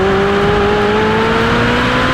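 A Ferrari 458 accelerates hard on a race track, a loud continuous engine whine rising steadily in pitch through the gear, heard from close up with no voices.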